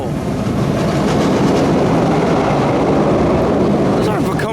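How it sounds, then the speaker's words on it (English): Roller coaster trains run along the track at Six Flags New England, producing a loud, steady rumble and clatter that fills the whole stretch without pause. "Those aren't Vekoma trains. What, are those B&M trains?"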